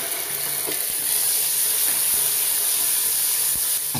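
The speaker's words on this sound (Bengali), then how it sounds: "এটারে একটু ভাজা নিতেছি" Onion paste, used for egg biryani, sizzles in hot oil in a pan, a dense, even frying hiss up close, punctuated by a few soft taps of stirring.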